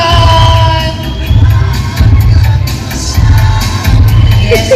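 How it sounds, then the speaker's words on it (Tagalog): A crowd cheers and claps at a Filipino pageant night, loud and close, with whoops and shouts rising in repeated surges over a thumping low rhythmic beat, and no clear speech. "Palakpak na may kasamang"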